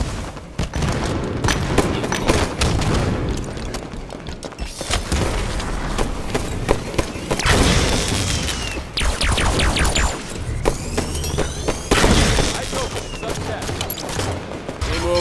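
Halo multiplayer match on a Forge map, with a grenade explosion booming amid continuous gunfire bursts; loud, dense and chaotic, with rapid weapon fire and thuds running throughout and faint voices underneath.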